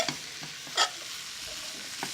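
Chopped garlic sizzles faintly in olive oil while being stirred, a low steady fry with a single louder scrape of the utensil partway through and no voices.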